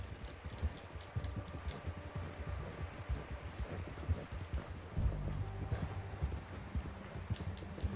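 Horse hooves in the video game Red Dead Redemption 2 clip-clopping at a steady trotting rhythm over low background rumble, fairly close and continuous throughout.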